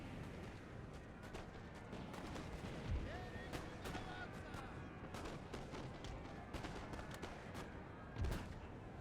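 Battlefield gunfire in the Napoleon Total War video game during a Russian campaign battle, with dense crackling musket volleys and deep artillery booms thudding at intervals over a continuous din.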